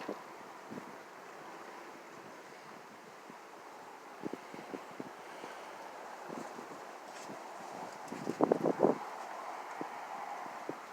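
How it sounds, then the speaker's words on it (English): Wind blows outdoors on a warm, gusty day, a faint low rumbling wash with soft buffeting against the microphone and a brief rustling burst near the end. "Yeah, it's windy out here today."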